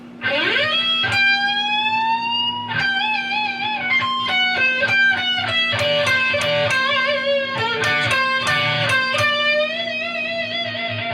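An electric guitar plays a solo phrase, with sustained bent notes, vibrato and quick melodic runs, distorted and sustained tone, alone over a steady amp hum.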